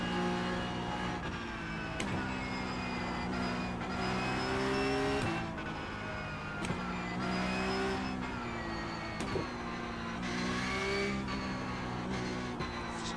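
Porsche 911 Cup 992.2 race car in the iRacing simulator, its engine wailing loudly and repeatedly revving up through the gears with brief drops at shifts, steady and close throughout.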